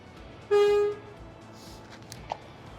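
A single short car horn honk sounds clearly and fairly close, followed by quiet background with a faint brief tone afterward.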